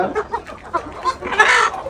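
A big rooster clucking at close range, with a quick series of short throaty clucks rising into a louder, brighter squawk near the end.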